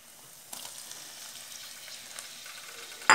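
Chopped onion and tomato sautéing in a pan for baked macaroni, a soft, steady sizzle and crackle with a brief louder clatter at the very end.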